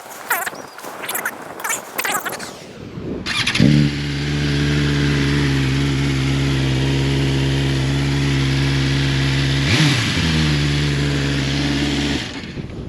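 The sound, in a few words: inline four-cylinder motorcycle exhaust accelerating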